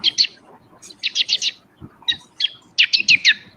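A man imitates a bird's chirping call with his voice for children, producing quick bright trills in bursts of three or four notes, each group separated by short pauses.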